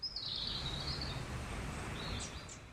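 Birds in a Brazilian forest give thin, high chirping and trilling calls, a fairly faint stretch near the start and a few short notes later, over a steady hum of insects and ambient noise.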